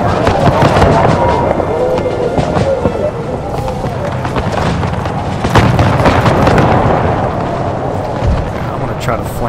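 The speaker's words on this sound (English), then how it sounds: "Get that good old British volley firepower." British musket lines fire volleys in the Empire 2 mod battle game, a loud, dense crackle of overlapping gunshots and booms that continues throughout the scene.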